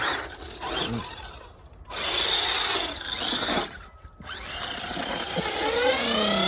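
A two-wheel-drive RC truck drives through shallow water. Its electric motor whines loudly in revving bursts that rise and fall, split by brief pauses, over a gritty, splashy hiss.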